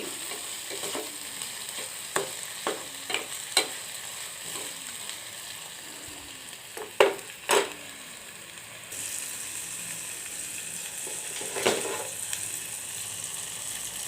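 Brinjal pieces fry in a pan while a spoon stirs them, making a soft continuous sizzle broken by several sharp scraping strokes, some in quick succession.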